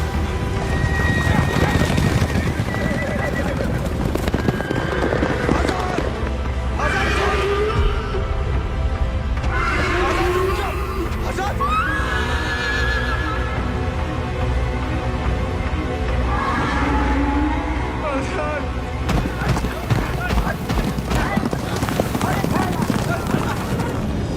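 A horse whinnies and neighs repeatedly with clip-clop hoofbeats during a wartime film scene, all loud and close under a dense mix of shouting voices and background noise.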